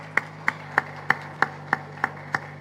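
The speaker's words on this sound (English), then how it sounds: "Haroon sir, we are clapping for you" Slow, evenly spaced claps from an audience at the Pakistan Digital Economic Center launch ceremony, eight sharp hits about a third of a second apart over a steady low hum.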